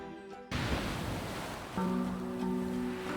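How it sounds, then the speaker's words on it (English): Ocean waves crash in a broad, roaring surge that starts abruptly after a tonal passage, with a faint steady hum joining partway through and no one speaking. "The crashing of the waves"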